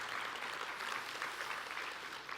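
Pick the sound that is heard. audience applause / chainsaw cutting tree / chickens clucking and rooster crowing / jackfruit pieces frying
audience applause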